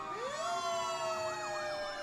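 Hopedale Ladder 1 fire truck siren during a holiday parade, a wailing tone sweeping up then wavering in a steady yelp, faint and somewhat distant.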